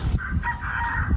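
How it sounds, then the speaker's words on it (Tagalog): Chickens clucking and crowing on a Philippine farm with goats nearby, several birds calling in short overlapping bursts over steady outdoor background noise. "Dami nilang manok dito."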